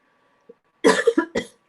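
A burst of several quick coughs close by, harsh and clustered together, following a faint throat sound, with no talking.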